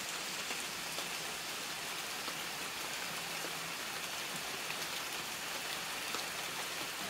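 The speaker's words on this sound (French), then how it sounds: "c'est tellement agréable le son de la pluie" Steady rain pours down in southern Thailand in a continuous broadband hiss, with scattered droplet patter throughout and no voices.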